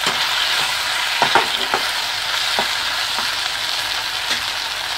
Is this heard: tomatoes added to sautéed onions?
yes